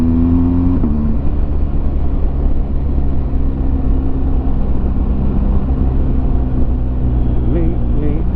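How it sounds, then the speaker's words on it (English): A BMW R 1250 GS motorcycle engine drones steadily at around 4,000 RPM while riding, a buzzy, sustained hum with a slight pitch shift near the start and again near the end. "This engine does get really buzzy, I've noticed, when it's at high revs."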